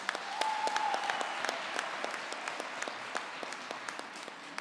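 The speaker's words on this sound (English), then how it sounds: "let's give them another thunderous round of applause." A graduation ceremony audience for a university Faculty of Education applauds steadily, a dense even wash of many hands clapping in a large hall, moderately loud throughout with a brief tonal whistle early on.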